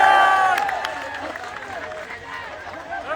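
Crowd at an SSC teachers' protest applauding to welcome arriving teachers, a dense wash of clapping and voices that is loudest at the start and gradually thins out.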